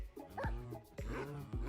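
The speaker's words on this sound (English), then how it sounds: "These dogs are looking at me because I've got steak in my hand." Dogs in the Minecraft video game give short, sharp yips and barks, three quick calls spaced about half a second apart, close and clear over a quiet background, with no talk.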